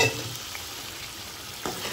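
Parboiled potatoes tossed with spices in a pan give a soft continuous sizzle with a faint stir and scrape near the end, short and close, no speech.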